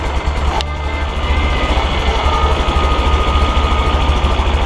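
A John Deere 1020 tractor engine runs steadily at close range, a loud continuous low rumble with a brief clatter near the start, no voices.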